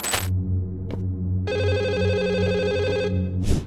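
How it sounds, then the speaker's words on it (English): A room telephone rings in the Chinese horror game Firework, a loud, bright electronic ring running for about two seconds over a steady low hum, framed by short sharp noise bursts at the start and end. "the phone in the room rang."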